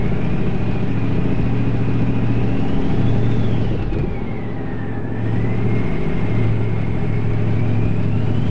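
An American Truck Simulator truck's engine drones steadily from inside the cab, a loud low rumble with a faint rising and falling whine over it and a brief dip partway through.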